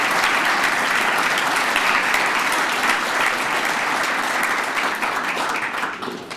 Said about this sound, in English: Please give our public safety leaders a round of applause